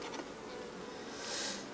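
Honey bees buzz steadily at close range while a hive is opened for inspection, a dense continuous drone with no talking.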